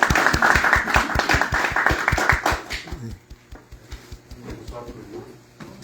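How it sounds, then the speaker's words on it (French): An audience at a tribute gathering claps in a brief burst of applause with distinct rhythmic hand claps, which stops abruptly about halfway through and leaves quiet room sound. "N'hésitez pas à les applaudir."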